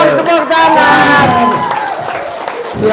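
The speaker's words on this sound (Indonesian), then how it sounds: "Tepuk tangan dong, tepuk tangan." Audience at a religious talk clapping hands in a short lively burst close by, mixed with some cheering and voices over the applause.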